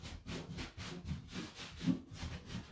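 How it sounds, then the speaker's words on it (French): Bare feet rubbed back and forth across a floor during a sophrology exercise, a soft rhythmic scraping with about eight even strokes, close and quiet, no talking. "je vais stimuler mes pieds en frottant mes pieds sur le sol"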